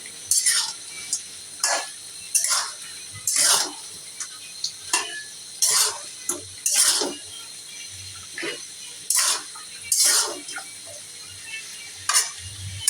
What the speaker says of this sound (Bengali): এখন আলুগুলা দিয়ে দিব।